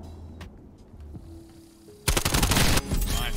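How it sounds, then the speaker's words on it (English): Rapid automatic fire from an AK74U firing explosive rounds in a first-person shooter game, a loud dense burst of shots that erupts after a quieter stretch and continues in fast clattering bursts. "I'm just shooting all the heads on them"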